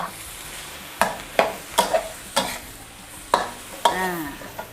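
Shrimp balls and Taiwanese bok choy stir-fried over high heat in a wok, with a steady sizzle broken by sharp scraping clatters of the spatula, about eight strokes at irregular intervals, close and fairly loud with no talking.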